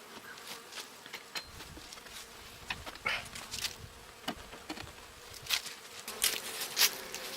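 Honeybees buzz around a homestead hive during a fall inspection, a steady drone close by with individual bees zipping past the microphone now and then, and no voices.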